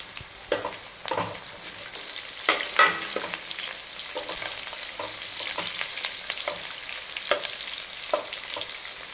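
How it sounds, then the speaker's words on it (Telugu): A tempering with green chillies and curry leaves frying in hot oil for a ridge gourd curry, crackling and sizzling close and steady, with scattered stirring scrapes and no voices. "తాలింపుని మనం మంచిగా వేగనిద్దాం."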